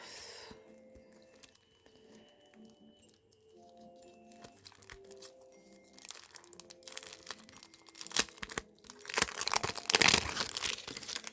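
A plastic packet of nail stickers is crinkled and torn open, faint rustles building into loud, close crackling and tearing bursts toward the end, with no talking.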